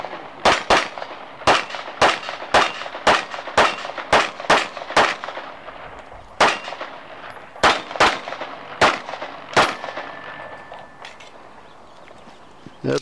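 Rapid gunshots fired from handguns, including a Beretta 92F semi-automatic, ring out in loud sharp bursts of single and double reports, some spaced out, with faint echo between them and no talking.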